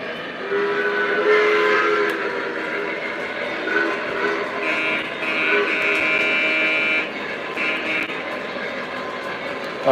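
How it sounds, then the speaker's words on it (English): A Lionel model ore train rolls along the track behind a Pennsylvania engine, giving a steady rumble and clatter with bright whistle-like tones over it for several seconds. No voices are heard. "Trying to sneak this ore train over there."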